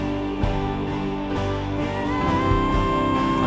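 An unmixed worship team recording of the song Lord, I Need You plays steadily, with full band and sustained chords throughout, dense and continuous with no pauses.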